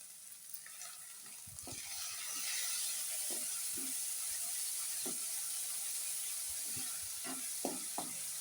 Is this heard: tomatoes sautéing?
yes